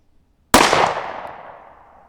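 A single sharp gunshot fired from a handgun with a 3.4-inch barrel over a chronograph, loud and close, with a sudden crack that trails off into a decaying echo.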